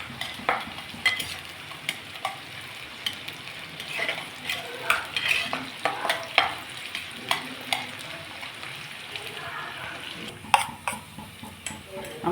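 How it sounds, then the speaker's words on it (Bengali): Onion and garlic fry in a pan for a chole masala, a soft steady sizzle broken by regular clicks and scrapes of a spatula stirring against the pan. "এখানে পেঁয়াজ আর রসুনটা ভেজে নিচ্ছি"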